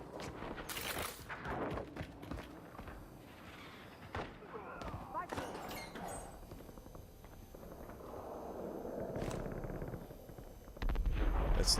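Sniper rifle shots in a Call of Duty Warzone (Black Ops 7) match crack out as scattered loud reports amid other battle noise, with a player talking over the action.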